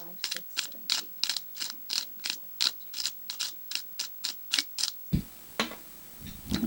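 A pepper grinder clicks about fifteen times in a steady, even rhythm while grinding black pepper, each crisp ratcheting click close and distinct, followed by a short rustle at the end.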